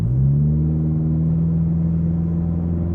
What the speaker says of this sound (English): I'm gonna do some accelerating.